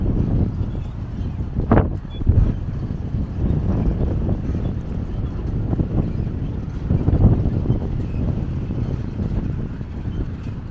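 Steady wind rushing and buffeting across the microphone outdoors, with low rumbling gusts that swell and fade, including a louder gust near the start.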